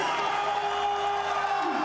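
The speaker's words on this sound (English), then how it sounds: "And the crowd in rapture." A cricket stadium crowd roars steadily in celebration of a batsman's century in a Pakistan versus Sri Lanka one-day international, a broad, even wash of cheering with no break.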